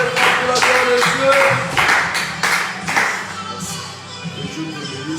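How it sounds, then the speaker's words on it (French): A church congregation claps in rhythmic bursts during a worship service, loud and close, with cheering voices mixed in before the clapping thins toward the end. "Acclamez pour la gloire de Dieu."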